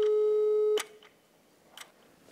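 A phone line tone while calling someone: one steady electronic tone lasting under a second, followed by a couple of faint clicks on a quiet line.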